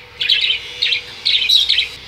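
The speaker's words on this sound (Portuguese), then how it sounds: "2 periquitos australianos, que é essa azul e essa verdinha." Pet budgerigars, one blue and one green, chirp in quick bright bursts of twittering song, several clustered calls with short gaps, close and clear in a quiet room.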